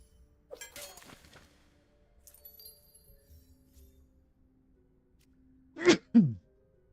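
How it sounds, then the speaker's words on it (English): A person sneezes during a live board game stream, two sharp close bursts in quick succession near the end, following a few faint clicks and quiet room noise. "I tried to mute my mic when I sneezed, but it didn't work, unfortunately."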